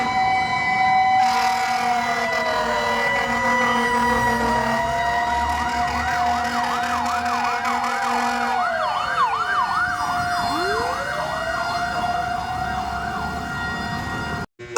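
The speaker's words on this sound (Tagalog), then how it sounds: "may naririnig kaming bumbero kasi may sunog na naman" A fire truck siren wails in repeated rising and falling sweeps, loud and steady throughout, heard outdoors near a street during a fire call, with no talking.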